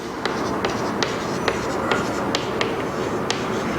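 A noun, apostrophe and s are written out for a possessive-case English lesson, with a steady scratch of writing and small sharp taps at an even pace against constant background noise.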